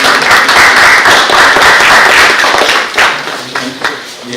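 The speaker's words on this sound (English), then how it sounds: "Let's have a round of applause." Audience at a technology and cybersecurity expo session bursting into loud, dense clapping that holds steady for a few seconds, then thins into scattered claps as it fades.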